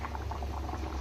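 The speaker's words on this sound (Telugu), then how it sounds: "ఇప్పుడు నేను కర్రీ బాగా ఉడికిపోయింది. చూడండి గ్రేవీ కూడా కొంచెం చిక్కగా కావస్తుంది." Nellore fish curry with thickening gravy boiling in a pot, a steady close bubbling and popping with no voices.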